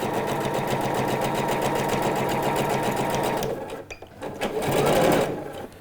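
A sewing machine runs fast and steady while topstitching a trouser hem, a loud rhythmic whirring chatter that stops partway through, followed by brief handling noises and a soft murmur.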